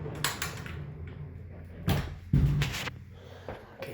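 A pocket door rolls along its track and thumps shut, with a couple of heavier knocks and rattles close by in a quiet room.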